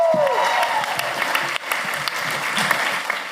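A studio audience at a televised talent show applauds, a broad continuous wash of clapping and crowd noise with a brief whistle-like tone at the start and faint voices mixed underneath.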